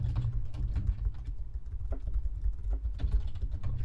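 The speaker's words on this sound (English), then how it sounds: "I'm typing it in." Steady computer keyboard typing runs through the whole stretch, a dense patter of close key clicks with no talk over it.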